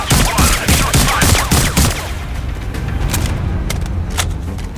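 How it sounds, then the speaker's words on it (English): Rapid bursts of gunfire in the video game Sniper Ghost Warrior Contracts 2 crackle in quick succession for about two seconds, then a few scattered distant shots pop over a rumbling background. "I just heard gunshots."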